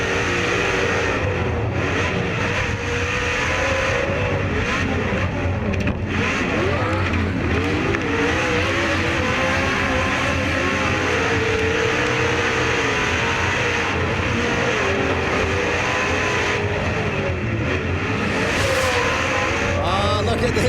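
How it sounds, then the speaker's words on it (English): Pro 2 off-road race trucks with MagnaFlow exhausts, 900 horsepower each, roar steadily through a TORC race at Primm, a dense continuous engine drone with rising and falling revs heard from trackside. "these Pro 2 trucks, 900 horsepower of fury"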